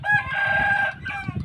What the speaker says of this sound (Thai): อันนี้ก็ถือว่าเป็น ไก่เหยี่ย